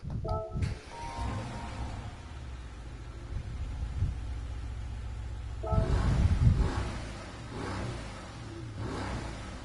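Mercedes-AMG GT S V8 in a video game, a starter click then the engine catching and settling into a low idle rumble, with a throttle blip swelling the revs midway before dropping back.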